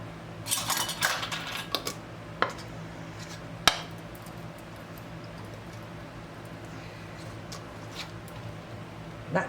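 Metal lid set onto a glass canning jar of homemade tomato basil jam: a cluster of light clinks and rattles, then a sharp single clink, with faint kitchen hum and scattered small taps afterward.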